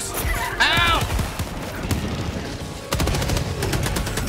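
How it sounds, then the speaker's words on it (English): Grenades burst amid rapid automatic gunfire in Helldivers 2, loud dense volleys of shots with a heavy crash partway through, a voice shouting briefly over the chaos. "Grenades going out"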